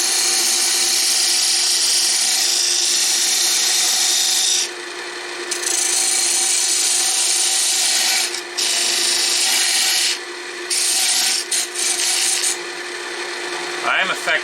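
A hanging wood ornament spins on a lathe while a tool scrapes and rasps against it in close, loud bursts, with brief pauses between cuts and a steady motor hum underneath.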